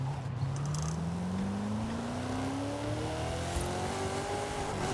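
A Crown Victoria with dents drifts sideways, its engine note climbing steadily as it revs hard under load, loud and continuous with a faint tire squeal near the start.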